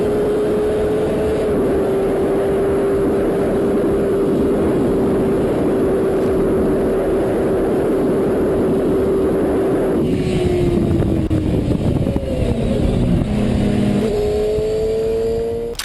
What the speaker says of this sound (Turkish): motorcunun aniden yavaşlayıp son anda durması